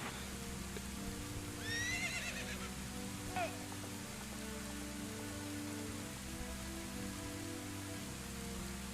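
Steady rain from The Legend of Zelda: Ocarina of Time, with a horse whinnying over it twice in rising, wavering cries near the start. The rain holds as a constant wash under the whole stretch.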